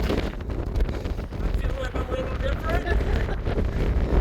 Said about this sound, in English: So it's gotten super windy.